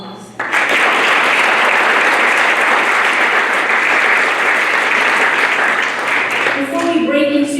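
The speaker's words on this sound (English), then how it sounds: "Can we do one more round of applause?" A sudden, full burst of audience applause at an evening networking event, dense steady clapping that holds loud for several seconds and then tapers as a voice begins speaking near the end.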